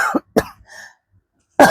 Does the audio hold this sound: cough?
yes